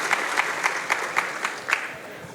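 A live audience at a Summer Games Done Quick speedrun marathon event claps, with rhythmic bursts of clapping and crowd noise sustained throughout, fairly close and loud.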